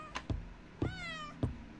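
A cat in the horror game Something is Wrong with Mrs Olson meows twice, close and clear, each call a drawn-out rising and falling wail, with short thumps and knocks between them.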